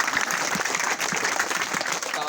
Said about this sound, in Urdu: ان کی آمد پر ایک زوردار تالی بجائیں۔